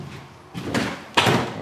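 A 30 by 30 sliding window on a trailer is pushed along its track, giving a rolling scrape and then a sharp, loud thud as it closes, heard close up.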